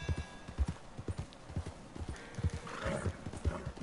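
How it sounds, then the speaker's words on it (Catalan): A horse in Red Dead Redemption 2 on PS4, its hooves clip-clopping in a steady rhythm close by, then a whinny rising over the hoofbeats near the end. "Hi ha un cavall tot sol."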